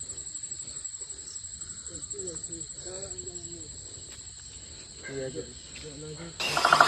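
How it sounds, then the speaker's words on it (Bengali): Crickets chirp in a steady high-pitched drone at night in a remote, risky spot, with faint murmuring voices underneath and a sudden louder rustle at the end. "পুরো ঝিঝি পোকার ডাক শোনা যাচ্ছে।"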